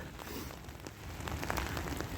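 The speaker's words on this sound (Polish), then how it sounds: "ciepło jest, ten deszcz pada" Light rain falls on a warm day on a walk to work, a soft, continuous patter with scattered faint drops, quiet and close.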